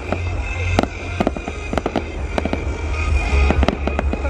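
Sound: New Year fireworks exploding in Yen Bai

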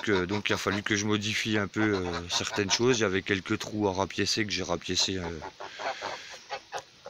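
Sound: chickens clucking, rooster in a henhouse

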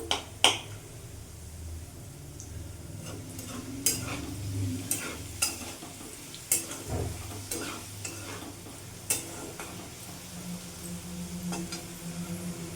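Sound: frying spice tempering with bay leaf and potatoes

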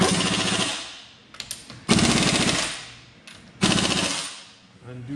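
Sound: air impact wrench with torque stick tightening wheel nuts

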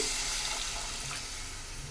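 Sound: pouring water into cooking pan

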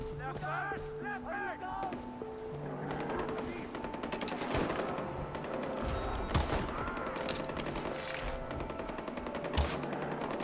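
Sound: gunfire from the video game Far Cry 4

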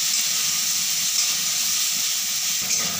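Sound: onion frying in oil

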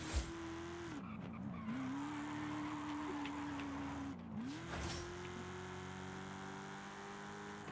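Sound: 1995 Corvette car driving, Forza Horizon 5 video game

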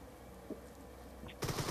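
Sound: gunfire in the video game PUBG, Miramar map

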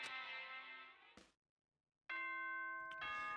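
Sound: doorbell chime in video game Danganronpa

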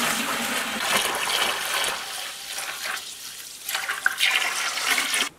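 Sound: rinsing out a bin with water

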